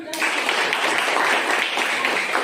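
Classroom of students breaking into loud, dense clapping that starts abruptly and continues steadily, close and unbroken for a couple of seconds.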